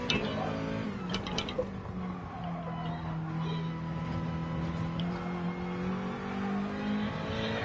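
A racing car engine holds steady revs in third gear through a corner during practice for a DGT League XANASSIN Trophy round, a continuous loud drone with tyre noise and faint speech underneath.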